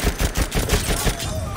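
Sustained team gunfire in a tank video game, a dense run of rapid overlapping shots and bursts at close range, loud throughout with no voices.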